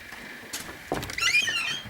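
A short creak and squeak of an old door swinging open at an old inn in Scotland, with a soft thunk partway through, quiet and close by.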